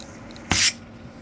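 A fuel injector from an ATV sprays a fine mist during cleaning, one short hissing burst lasting about a fifth of a second, close and clear against quiet background.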